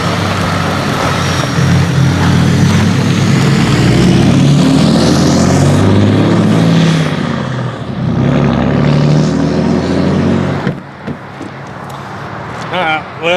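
A 2018 Cummins diesel pickup with a G56 manual transmission backs up in a parking lot, its close, loud low rumble running steadily, easing briefly near the middle, then dropping off toward the end.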